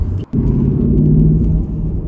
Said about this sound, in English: There we go, it's very happy to accelerate